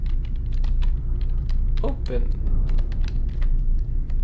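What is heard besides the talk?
typing on a computer keyboard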